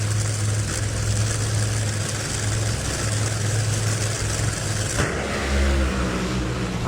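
Top fuel drag racing cars roar down the strip with a loud, continuous engine blare at a Chicago Route 66 or Richmond drag race. The tone shifts sharply about two-thirds of the way through.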